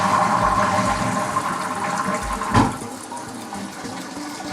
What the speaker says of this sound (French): J'ai envie d'aller au petit coin, donc je tire la petite chasse d'eau.